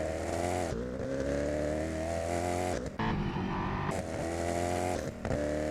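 Engine note of a McLaren P1 mod in a driving game played with a steering wheel, a steady, buzzy, harmonic drone that holds pitch with brief drops and shifts around gear changes, loud and alone.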